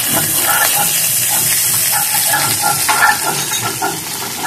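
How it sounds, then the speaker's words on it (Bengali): Pieces of pointed gourd (potol) fry in hot oil, giving off a loud, continuous hissing sizzle up close. Occasional stirring scrapes and small pops rise above the steady bubbling. "তেলে আমি পটল ভেজে নিচ্ছি"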